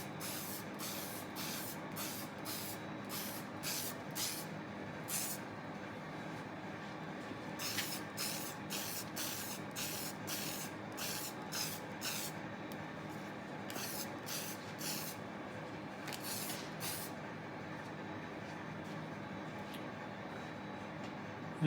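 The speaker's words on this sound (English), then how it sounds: "we're going to go ahead and spray the front" Repeated short bursts of aerosol hammer paint spray hiss in quick sequences while painting an electronics enclosure, separated by brief pauses, over a steady low background hum.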